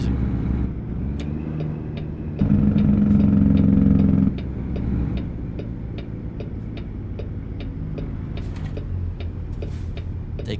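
Steady low engine drone of a rental truck in American Truck Simulator, with a brief louder surge midway and faint repeated clicks over the continuous hum.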